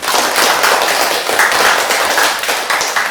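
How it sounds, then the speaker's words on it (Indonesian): A classroom audience claps together after a student presentation, a steady burst of many hands that stays fairly loud and close, with no talking over it. "mari kita tepuk tangan dulu"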